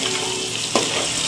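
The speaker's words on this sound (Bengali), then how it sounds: "ডিমটা আমি লো ফ্লেমে ভাজবো।" A boiled egg frying on low flame in mustard oil with turmeric, giving a steady close broadband sizzle with a brief louder crackle partway through, no voices.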